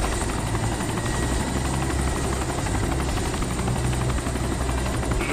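A helicopter in the DayZ Epoch survival game flies close by, a loud, steady rotor drone with rapid blade chop that fills the whole stretch without pause.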